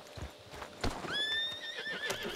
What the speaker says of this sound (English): You followed me for no reason? Damn horse.